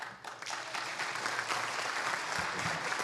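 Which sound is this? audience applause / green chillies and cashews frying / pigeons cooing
audience applause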